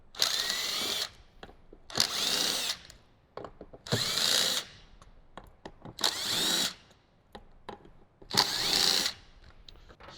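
Power driver backing T20 Torx screws out of a Jeep JL door panel, five loud whirring bursts of about a second each separated by quieter gaps with small clicks and handling noise.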